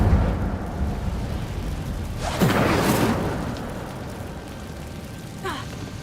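An Incendio fire spell cast in Hogwarts Legacy erupts as a single whooshing, rumbling blast midway through, over a low ambient game backdrop, followed by a brief faint chirp near the end.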